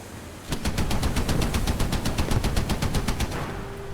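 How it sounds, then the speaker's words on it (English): Rapid machine gun fire from a warship in the War Thunder naval battles, a steady burst of evenly spaced shots running about three seconds over a dense background rumble. "those machine guns don't really do anything against the larger ships"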